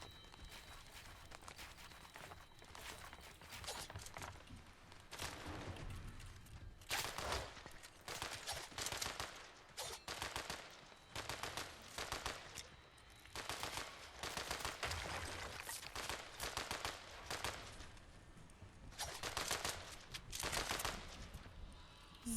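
Bursts of rapid gunfire in Fortnite crackle repeatedly in short volleys, separated by brief pauses, over a busy background of movement and noise.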